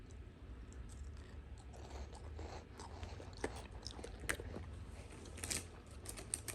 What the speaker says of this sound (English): So here I am eating Ritz crackers for my lunch.